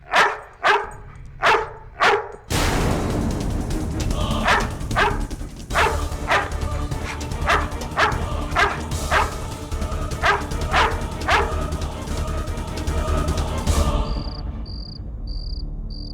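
A dog barks in four sharp, separate yips, then a steady, dense music-like bed with crickets or insects chirring throughout, and a faint repeated high beep near the end.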